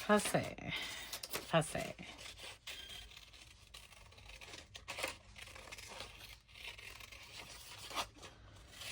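Small scissors fussy-cut paper for a steampunk craft, with soft snipping and rustling cuts at irregular intervals, close and quiet, while someone talks throughout.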